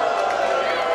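A wrestling arena crowd from classic Prime Time Wrestling roars in a steady, dense wash of cheering throughout a brief moment, loud and sustained with a commentator's voice likely mixed beneath.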